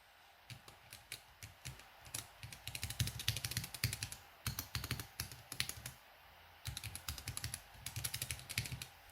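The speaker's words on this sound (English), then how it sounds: "Now let's type something, shall we?" Keys clack on a mechanical numpad in quick bursts of crisp, close taps with short pauses between runs, quiet and with no voice.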